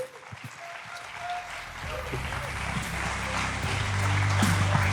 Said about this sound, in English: Round of applause for Justin Drake, everyone.